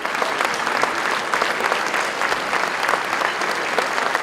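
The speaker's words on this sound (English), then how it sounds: "Please, let's give them all a nice round of applause." A large audience at an anniversary celebration gives a loud, sustained round of applause, dense overlapping claps filling the room without a break.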